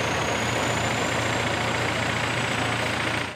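A vehicle pulls away on a road, its engine a steady, loud low rumble with a hum underneath, running continuously for a few seconds before cutting off abruptly.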